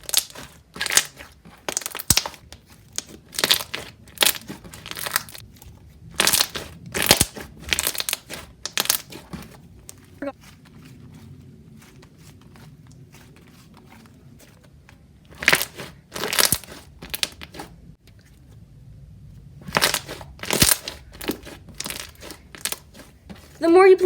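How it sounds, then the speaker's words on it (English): Crunchy, glossy slime is squeezed and worked by hand, giving bursts of close crackling and popping crunches in irregular clusters, with a quieter pause in the middle. "This slime is insanely crunchy and glossy"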